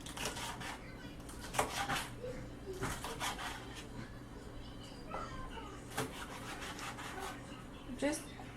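A knife slices vegetables into medium strips for Jamaican-style oxtails, making soft repeated scraping and chopping strokes against a board at an uneven pace, with a low background hum.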